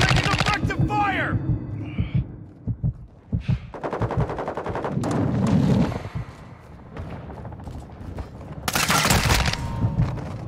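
Bursts of automatic gunfire crackle through a video game battle, coming in rapid volleys with heavy thuds between them. Game voices call out under the shooting.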